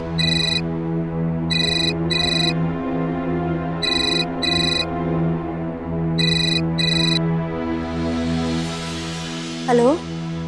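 A telephone rings late at night in a home, in repeated paired bursts of bright electronic tones over a steady low musical bed, ending just before a short voice.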